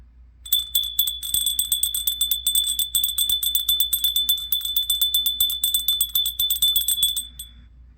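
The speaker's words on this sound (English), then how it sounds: "We're going to ring yet another bell for that one, a much bigger one." A bell with a bright, high metallic ring is struck rapidly and repeatedly, dozens of close, even hits for about seven seconds before it stops, clear against quiet surroundings.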